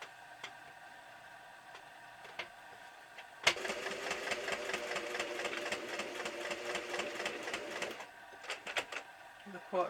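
A sewing machine stitches a quilted clothes pin bag, running in one steady burst of rapid needle chatter for several seconds, with quiet stops and small handling sounds before and after.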